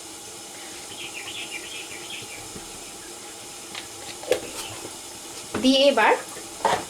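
Egg curry masala being sautéed in a pan for a dhaba-style dish gives a soft, steady sizzle with occasional stirring scrapes, joined near the end by a person speaking briefly over it.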